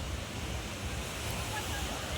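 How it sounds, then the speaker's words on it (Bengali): Ocean surf rolls in at Puri beach on India's east coast as a steady, continuous wash of breaking waves, with wind buffeting the microphone throughout and no talking. "ঢেউয়ের আওয়াজগুলো শুধু শোনো"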